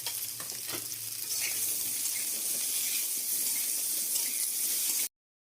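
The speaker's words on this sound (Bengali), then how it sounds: "আলুগুলো সব ভেজে নেবো এবার" Potatoes fry in a pan, a loud, steady broadband sizzle that rises after the first second and holds evenly before cutting off abruptly, with a few faint clinks early on.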